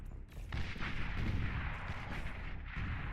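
Artillery firing in the strategy game Beyond All Reason, a dense rolling rumble of heavy shots and booms that swells after a brief lull and keeps thundering steadily throughout.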